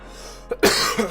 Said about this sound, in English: every time I cough, that hurts so bad